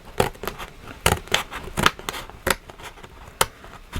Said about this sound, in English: I'm going to poke my scissor in the center here, and I'm going to cut